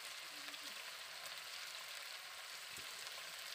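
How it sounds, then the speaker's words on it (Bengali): Ground ginger, garlic and green chili paste with chili powder and turmeric fry in a pan for a dhokar dalna curry, giving a steady, even sizzling hiss throughout with a faint soft knock partway through. "এবারে আমি ভালো করে সব একসঙ্গে কষিয়ে নিচ্ছি।"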